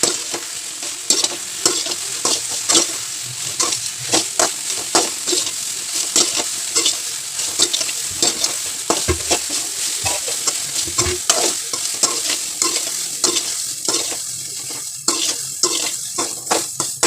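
Soybeans fry in a pan with a little salt, giving a continuous close sizzle broken by frequent scraping strokes of a spoon, steady throughout with no voices.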